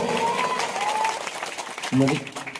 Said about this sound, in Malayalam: ഒന്ന് ഉറപ്പിച്ച് കൈയടിച്ച് പാസ്സാക്കി തരുമോ